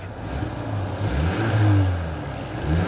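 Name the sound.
2025 Ford Maverick 2.0L EcoBoost engine running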